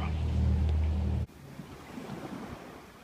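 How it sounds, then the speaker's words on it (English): Water lapping at the shore of Brownsea Island in Dorset, heard outdoors under a heavy rush of wind buffeting the microphone that cuts off abruptly, leaving softer, uneven washing of water. "You've got this lovely sound of the water"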